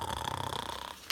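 A voice imitates a bear snoring with a close, steady, rhythmic rasping drone of quick pulses that fades near the end before a short sharp sound.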